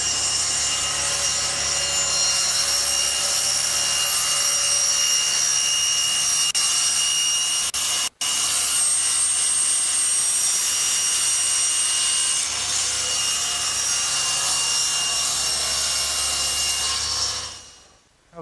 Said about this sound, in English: I like to use the table saw